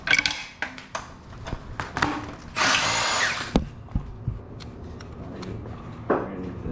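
A power tool works on bolts of a Honda D16Z6 engine being disassembled, giving short bursts of whirring and metallic clicks with a longer loud burst in the middle, close and fairly clear.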